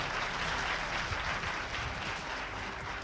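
An audience at a Modicare business seminar claps, producing dense, even applause that holds steady and unbroken from start to finish, with no voices over it.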